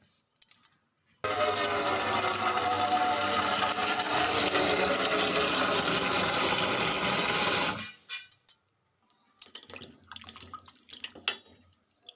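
Cut mushrooms are washed under a strong rush of water that runs steadily for several seconds, then stops, followed by wet handling and splashing sounds close by.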